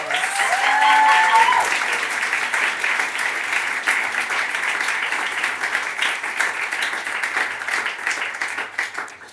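An audience at a writers' festival programme launch applauds the evening's speakers, a dense steady roll of clapping, loudest at the start and continuing evenly throughout.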